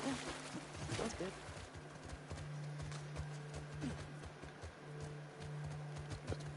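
Horse hooves clip-clop steadily in The Last of Us Part II, a rhythmic run of close, moderately loud hoofbeats on the ground, with someone speaking over them.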